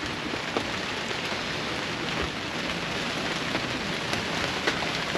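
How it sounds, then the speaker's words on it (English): Steady, dense rain pouring down during a tropical storm or hurricane, heard from a boat moored on doubled-up lines, a constant broadband hiss with scattered louder drops and no talking. "we are riding out a tropical storm / hurricane today"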